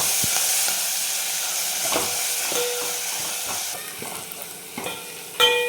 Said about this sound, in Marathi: हिरव्या मिरचीचा ठेचा आहे एक चमचा तो टाकायचा त्याला पण छान परतून घ्यायचं आहे